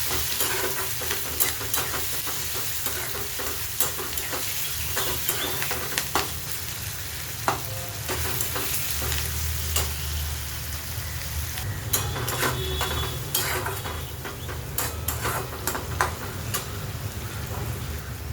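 Tomatoes, garlic and coriander sizzle in a hot pan for a Maharashtrian ivy gourd (tondli) curry with black masala, a dense crackling fry broken by frequent spoon scrapes and taps against the pan.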